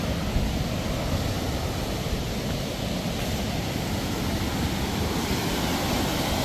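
A steady, dense roar of rushing water from Thoseghar waterfall near Satara, loud and unbroken throughout with no pauses or voices.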